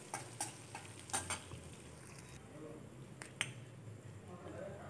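Chopped onion fries in a wok with a faint, steady sizzle, broken by a few sharp clicks and taps from a stirring utensil.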